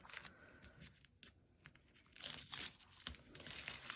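Tape peeled off a vinyl bag, quiet crinkling and sticky tearing rasps in irregular bursts, growing louder and more continuous toward the end.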